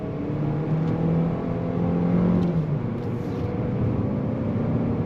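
A 2026 GMC Terrain Denali accelerates on throttle up a hill, its engine note rising steadily as a continuous cabin drone, with a brief shift partway through.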